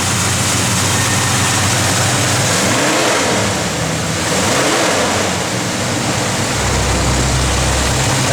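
A 1970 Chevrolet Chevelle SS V8 with a lumpy cam idles loudly and steadily outdoors on a cold day, with two engine blips rising and falling mid-clip before a low rumble settles toward the end.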